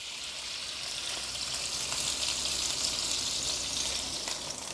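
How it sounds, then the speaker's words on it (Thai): Batter poured into a hot oiled pan with shrimp for a Thai fried seafood dish, giving a steady, dense, close sizzle of frying that continues without break. "พอกระทะน้ำมันร้อนขึ้นมาแบบนี้แล้ว เทแป้งที่เราผสมไว้ลงไปครับ"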